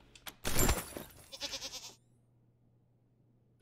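A goat in the post-apocalyptic game Wasteland 3, wearing a bucket around its neck, lets out a short contented bleat after a brief rustle, clear and close, then quiet.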